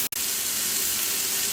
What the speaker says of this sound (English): Alright, so it's been sizzling for a while now.